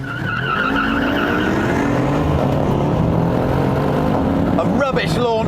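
A sports car launching hard from a standstill in a high-powered saloon comparison against a Mercedes-Benz E63 AMG S, with a loud, steady engine roar and rising gear tones throughout, tyre noise underneath, and a short squeal near the end.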